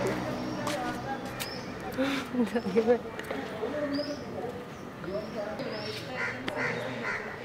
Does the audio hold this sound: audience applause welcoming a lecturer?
no